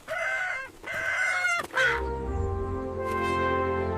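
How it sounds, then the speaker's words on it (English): A farm rooster crows loudly and close, two full cock-a-doodle-doo calls followed by a shorter clucking phrase, with no talking. "That's our rooster."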